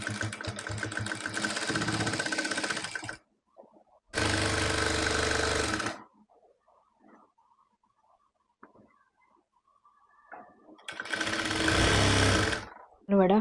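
A domestic sewing machine stitches a seam round a baby jumpsuit in three loud, close bursts separated by near-silence and faint handling noises.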